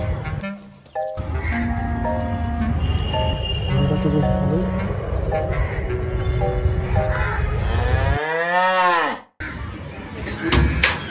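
A cow moos loudly several times over continuous background music, with a long drawn-out moo near the end before the music resumes.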